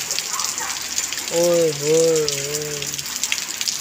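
Heavy rain flooding a city and a half-submerged house, heard as a steady loud hiss of water and downpour, with a man briefly exclaiming over it.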